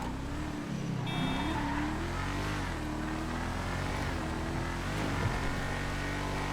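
A new DLC car in GTA 5 Online drives along, its engine droning close and steady with rising and falling revs, a few shifts and a brief whoosh near the start, no voices.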